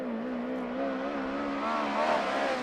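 USAC race car lapping the Arizona Speedway oval, its engine holding a steady, sustained drone with a slowly wavering pitch, heard from moderate distance and alone.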